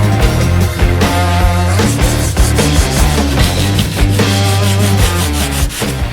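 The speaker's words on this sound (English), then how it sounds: "You saw me sanding the heck out of this thing, but it's super smooth." A 1953 GMC truck door panel being block sanded with a steady, loud, rhythmic rasping of back-and-forth strokes up close, with no talking.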